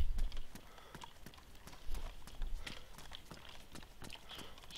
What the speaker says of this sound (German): Ich höre hier nämlich gerade Schritte.